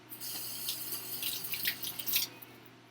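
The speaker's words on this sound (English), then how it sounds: "I'm going to rinse my hands." A kitchen tap runs while hands are rinsed under it, making a soft, close splashing flow with fluctuating bursts as the hands move through the stream.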